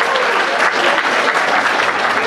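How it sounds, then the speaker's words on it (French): A theatre audience at a play gives loud, dense applause throughout, steady clapping close by with no breaks. "vous pouvez applaudir quand même."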